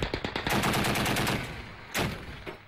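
Gunfire in a battle near the Libyan town of Zlitan: rapid bursts of close, loud shots, first quick repeated cracks, then a sustained volley, a short pause and one last sharp shot, with no voices.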